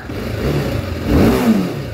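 A TVS Apache 310 RR motorcycle with a stock exhaust revs up close and loud, its engine note rising sharply in a single throttle blip before easing back.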